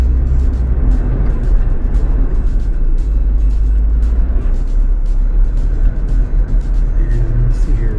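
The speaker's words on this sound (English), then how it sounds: "Too much traffic out today." Road traffic on a busy main road between Pigeon Forge and Sevierville, Tennessee, heard as a loud, continuous low rumble of tires and engines with steady road noise throughout.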